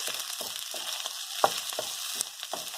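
Hawaiian bar-style fried rice tossed and stirred in hot oil: a constant bright sizzle with rhythmic scraping pulses roughly every third of a second, close and clear, with no talking.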